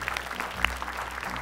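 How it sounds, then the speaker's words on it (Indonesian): An audience claps at a short film festival awards night, a scattered patter of individual claps with one sharper clap standing out, moderately loud and brief. "Kita berikan tepuk tangan yang meriah hadirin sekalian."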